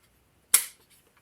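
A single sharp, close click as an electrical connector snaps onto a Hellcat fuel pump during a Mazdaspeed fuel pump swap, alone in near silence.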